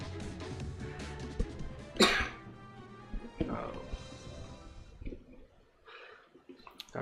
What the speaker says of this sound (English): Got a slight cough.